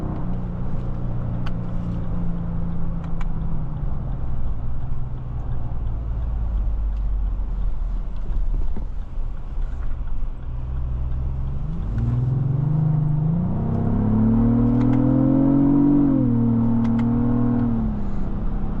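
A 2025 Lexus GX 550 Luxury Plus SUV pulls away from a stop, a low steady engine drone giving way to a rising, louder rumble as it picks up speed, heard from inside the cabin.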